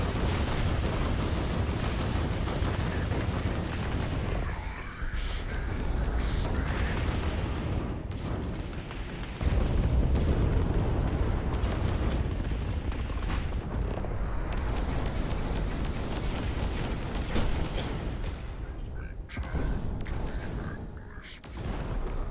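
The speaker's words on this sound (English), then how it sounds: "I don't want to blow up his ship." Heavy, booming explosions and bursts in a Starfield space battle as a spaceship blows apart, loud rumbling blasts repeating with short gaps and a fading tail near the end.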